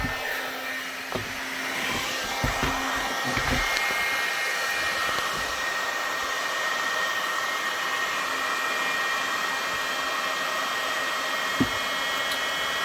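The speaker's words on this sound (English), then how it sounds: "we're gonna get a heat gun" A heat gun blows steadily and alone, a constant airy roar warming the plastic of an IWB light-bearing taco holster, with a few faint clicks and handling knocks early on.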